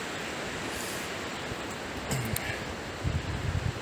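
Wind rushes steadily through a forest during a mountain bike ride, making a dense, even roar with a few brief low bumps near the end.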